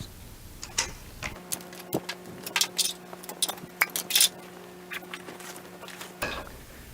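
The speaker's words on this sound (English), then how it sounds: "Unclip and detach your seat. And break down your paddles." Handling an inflatable Sea Eagle LongBoard 11 paddleboard: a seat is unclipped and paddles are pulled apart, giving a run of close, sharp clicks and plastic clacks over a steady low hum.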